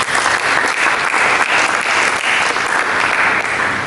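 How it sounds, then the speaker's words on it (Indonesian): Church congregation applauding for Jesus during a sermon, a loud, dense and steady burst of many hands clapping close by, continuing without a break and with no voices heard. "Berikan tepuk tangan bagi Yesus."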